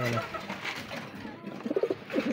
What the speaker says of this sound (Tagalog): Gandang kalapate na ito